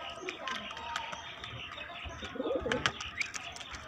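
Madrasi pigeons coo softly and repeatedly close by, with some chirping and someone talking over them.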